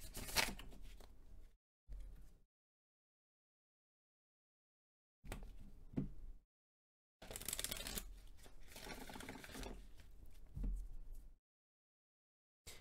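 Tarot cards are shuffled in several bursts of crisp riffling and flapping, separated by stretches of silence, close to the listener.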